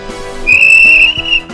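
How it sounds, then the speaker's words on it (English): A railway guard's whistle gives one loud, clear sustained blast of about a second over a background of engine hum and chuffing. "That's my guard's whistle."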